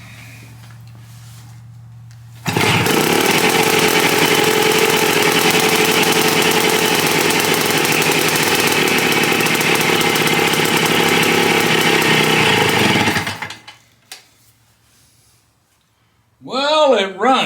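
An AT3 engine, primed with gas and with a carburetor that needs cleaning, catches abruptly and runs loud and steady for about ten seconds before cutting out; someone speaks briefly afterward.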